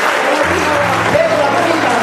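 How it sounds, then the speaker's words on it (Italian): A hall audience claps in encouragement for a woman about to present an evening event, a brief steady patter of many hands with a voice speaking over it. "di fare un applauso di incoraggiamento alla nostra Giuseppina"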